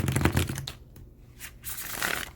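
A stack of steampunk tarot cards is shuffled in a quick, dense riffle, followed by quieter handling and a second brief flurry of card noise.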